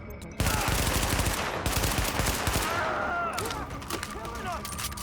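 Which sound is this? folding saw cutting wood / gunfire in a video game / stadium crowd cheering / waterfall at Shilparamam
gunfire in a video game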